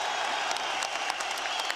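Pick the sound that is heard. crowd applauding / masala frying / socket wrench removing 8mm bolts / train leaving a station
crowd applauding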